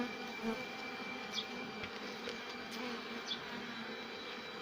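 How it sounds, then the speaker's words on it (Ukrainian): A drone honeybee buzzes steadily, crawling out of the hive for an orientation flight, with a constant close hum and the faint buzz of other bees around it. "Трутень лізе на обліт."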